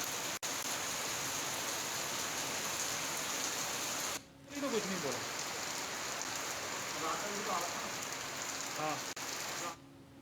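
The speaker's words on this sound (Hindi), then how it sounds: "तेज आंधी के साथ झमाझम बारिश हो रही है।" Heavy monsoon rain falls with strong wind in the Pachwadoon area of Uttarakhand. A dense, steady roar of downpour continues throughout, loud and unbroken, with a faint voice briefly audible beneath it.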